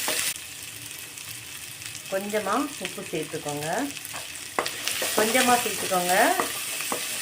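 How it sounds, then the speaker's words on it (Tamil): Steady sizzling and frying hiss of chopped onions sautéing in a pan, with occasional stirring, while someone speaks over it. "அந்த கலர் சேஞ்ச் ஆகிற அளவுக்கு நல்லா வதக்கிக்கோங்க"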